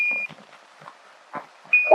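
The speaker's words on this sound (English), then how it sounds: "Roger, 1201 alarm." A sharp, steady electronic beep sounds twice, the Apollo 11 lunar module's 1201 program alarm during the 1969 descent to the Moon, each tone lasting about a quarter second, with faint radio chatter and crackle between them.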